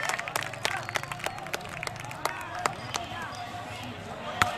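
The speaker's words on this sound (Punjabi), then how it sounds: "ਤਾੜੀ ਮਾਰੋ ਹੱਥ ਖੋਲ ਕੇ ਬੜਾ।" Crowd at an outdoor kabaddi match clapping in scattered sharp bursts over a steady murmur of spectators, with an announcer's voice rising above the noise.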